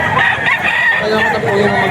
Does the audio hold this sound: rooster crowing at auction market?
yes